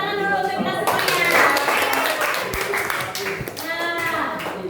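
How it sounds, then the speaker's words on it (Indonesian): Eighth-grade students applaud together in a classroom, a sustained crowd of clapping hands that swells and fades slightly, with children's chatter underneath. "Oke, semuanya tepuk tangan dulu untuk kita semuanya."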